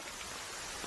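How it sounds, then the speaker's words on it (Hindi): Steady, dense rain falls continuously, a close, even hiss of drops with no pauses and no talking over it. "बारिश रुक ही नहीं रही।"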